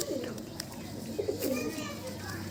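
Pigeons in a loft give soft, low cooing calls close by, mixed with other bird chatter while someone talks over them.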